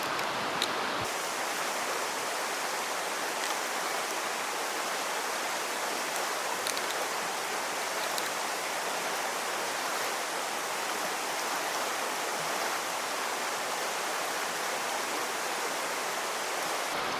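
Steady, broadband rushing of a river in Marquette, continuous and fairly close, with no voices or breaks.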